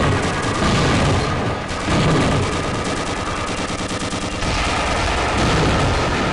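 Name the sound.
tank machine guns firing in video game Gunman Chronicles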